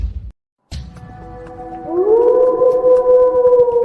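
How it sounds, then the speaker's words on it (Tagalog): A wolf howls in an old forest, a long rising tonal howl that swells up and holds steady at full strength after a short hush and a faint click. "sabi ng mga matatanda may mga lobo sa paligid dito"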